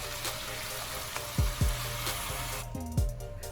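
Coconut milk poured into a pan of vegan spicy curry with potatoes and kale, a soft steady liquid wash under a low simmer hiss, broken by a few quick gurgling plops; no voices.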